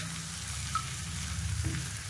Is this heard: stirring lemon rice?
yes